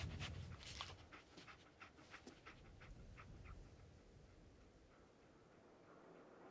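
Dogmeat, the dog companion from the video game Fallout 4, pants in quick rhythmic breaths, fairly faint and close, over a low background murmur.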